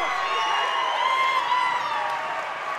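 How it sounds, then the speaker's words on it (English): A loud home crowd roars and cheers steadily at a boys high school basketball game between South Bison and Natrona County, a dense sustained wall of noise. "Natrona's crowd really loud"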